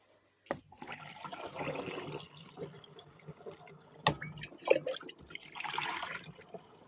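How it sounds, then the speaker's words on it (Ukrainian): Water splashes and gurgles into a container to top up a garden spray mixture for treating tomato plants, pouring in uneven bursts at close range with a few clunks. "І решту доливаю водою."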